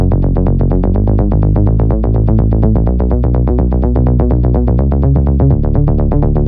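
A melodic house bass line plays alone and loud, a punchy top bass jumping between octaves in a steady groove, layered over a deep sustained sub bass that shifts pitch every few bars.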